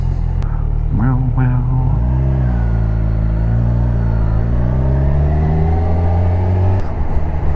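A 2022 Kawasaki 1000 SX motorcycle is ridden, its engine rumbling loudly and rising in pitch as it accelerates, with wind noise and a rider talking over it.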